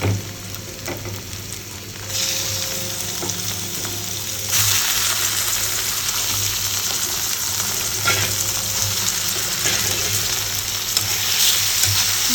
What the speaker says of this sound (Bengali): আমাদের পেঁয়াজ হচ্ছে ভাজা ভাজা হয়ে গেছে, এখন হচ্ছে চিকেনগুলো দিয়ে দেবো